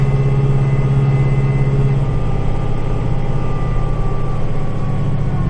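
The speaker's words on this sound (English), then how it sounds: "I gotta close my garage door." A garage door runs steadily and loudly through its closing motion, a continuous mechanical drone with a droning motor hum that holds throughout, alone with no talk.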